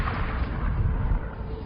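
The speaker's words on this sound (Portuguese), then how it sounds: "Quando uma estrela gigante vermelha explode, uma bola de fogo titânica conhecida como supernova libera tanta energia" Deep rumbling boom representing a supernova, a red giant star exploding into a titanic fireball, heavy and sustained with strong low-end roar rolling on for the whole stretch, loud and alone without voices.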